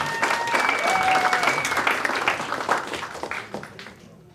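A comedy club audience in Atlanta applauds a comedian taking the stage, a dense, close burst of clapping that tapers off over a few seconds while a voice speaks over it near the end.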